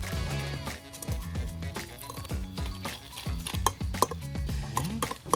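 Lobster salad ingredients being mixed in a pot: a steady run of close, rhythmic scraping and clinking of a utensil against the pot, with faint talk now and then.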